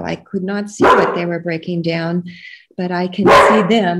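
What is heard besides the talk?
dog barking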